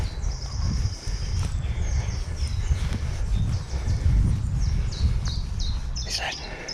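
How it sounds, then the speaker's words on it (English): Many birds chirp and tweet at once along a cliff edge outdoors, high calls scattered through the clip over a low rumble of wind. "you hear all the birds?"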